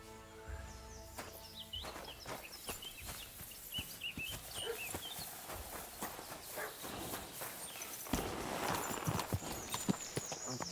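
Horse hooves clip-clopping in the medieval video game Kingdom Come Deliverance 2, a fairly quiet, steady run of rhythmic hoof strikes that grows busier and denser toward the end.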